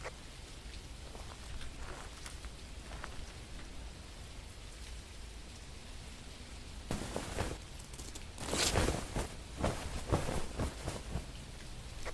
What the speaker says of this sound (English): Yeah, but it's light rain